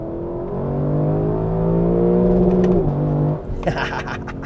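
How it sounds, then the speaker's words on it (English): Lexus LC 500 Convertible V8 revving hard and holding against the rev limiter, a loud, sustained, rising engine note with a bouncing limiter stutter, then dropping off into a brief burst of mechanical crackle. "The most intoxicating rev limiter sound."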